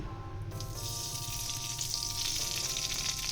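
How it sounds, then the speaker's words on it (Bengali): Ghee hitting a hot kadai on a gas stove, frying a steady, close sizzle that holds evenly throughout, with faint tonal kitchen hum beneath and no talk. "গ্যাস ধরিয়ে কড়াই বসিয়ে দিয়েছি, কড়াই গরম হয়ে গেছে। আমি কড়াইতে দিয়ে দেবো ঘি।"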